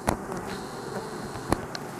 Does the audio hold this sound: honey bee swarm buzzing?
yes